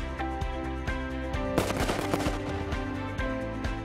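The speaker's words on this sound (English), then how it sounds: "Experience the big difference with big fireworks." Big fireworks exploding in a rapid, loud string of bangs and crackles, with a dense burst of overlapping reports midway before settling back into repeated pops.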